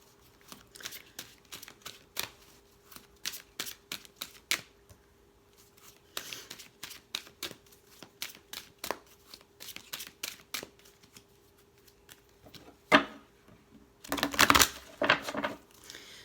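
A deck of oracle cards is shuffled in soft, scattered riffles and flicks nearby, quiet at first, then a louder, denser burst of shuffling near the end, with no talking.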